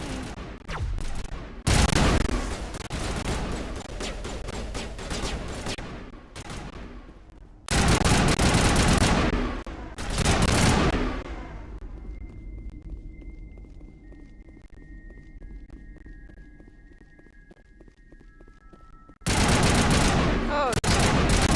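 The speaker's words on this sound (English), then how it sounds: "Why are you shooting me?" Gunfire in the video game Mass Effect, with loud bursts of automatic weapon fire coming in dense rapid volleys, separated by a quieter stretch of electronic tones and game ambience.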